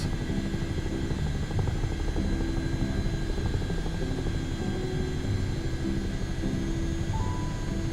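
A CH-47 Chinook tandem-rotor helicopter flying in Microsoft Flight Simulator 2024, giving a continuous loud droning engine and rotor roar with a steady low rumble throughout and no talking.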